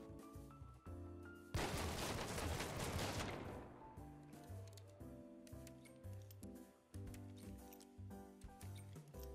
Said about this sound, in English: if we check the pattern of the fanning, this is pretty impressive